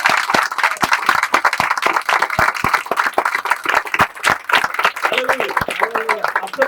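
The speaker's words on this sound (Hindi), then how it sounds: "सब प्रभु को महिमा की तालियां देंगे।" A church congregation claps in praise, dense, loud and sustained applause from a crowd filling the room, with a voice speaking briefly underneath toward the end.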